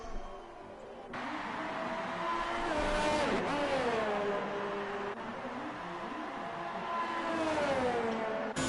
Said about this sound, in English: Now the other McLaren of Ref Josh coming around the final corner. And he will be coming up to the line.